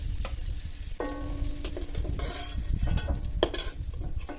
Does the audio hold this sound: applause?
no